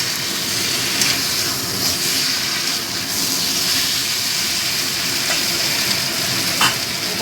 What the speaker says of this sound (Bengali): এবার আমি পরিমাণ মতো গরম জল দিয়ে দিই।